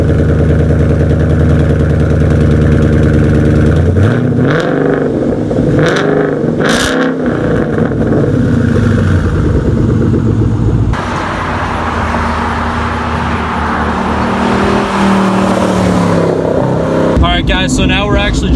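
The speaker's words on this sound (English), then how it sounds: "So now we're actually driving this Coyote" A 2014 Ford Mustang GT Premium with its Coyote V8 pulls hard from inside the cabin, the loud engine note climbing steadily through the gears with a shift break partway, close and dominant.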